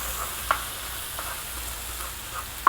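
Jalapenos and apple mint jelly cooking down in a pan on a disc cooker, a steady close sizzle with a few soft clicks of stirring scattered through it.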